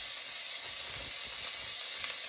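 Fish fries in a hot pan for a breakfast of fish and grits, giving a steady, close, crackling sizzle with no talking over it.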